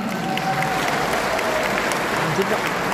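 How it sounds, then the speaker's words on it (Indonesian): A large audience at a regional representative council forum with a presidential candidate applauds steadily, a thick continuous roar of clapping from a big crowd, loud and sustained throughout. "minta tepuk tangan untuk DPD RI, tepuk tanganlah yang sungguh-sungguh"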